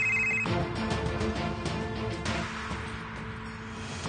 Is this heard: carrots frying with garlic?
no